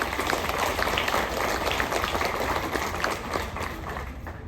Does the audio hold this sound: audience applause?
yes